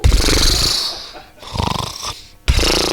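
A man imitates the snoring of the Mexican comedy character Capulina, giving a few rough, raspy snore-like breaths in a loose rhythm, close and fairly loud, with short pauses between them.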